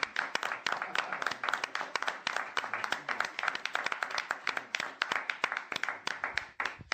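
Church congregation applauding during worship, a brisk, continuous run of sharp individual hand claps with irregular rhythm, fairly close and steady throughout.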